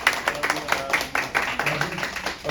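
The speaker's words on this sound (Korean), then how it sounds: "우리 박수로 환영하겠습니다" A church congregation at a Sunday service claps in welcome, a moderately loud patter of hands with individual claps audible and a hint of voices beneath.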